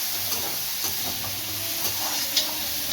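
Onions and spices sautéing in a pan for a Tamil vanjaram fish curry, a steady soft sizzle with faint stirring scrapes and clicks, close and continuous without talk.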